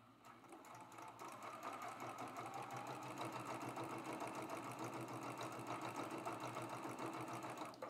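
A sewing machine stitches a Prairie Flower quilt block, its fast, even motor hum and needle chatter running continuously and close at hand.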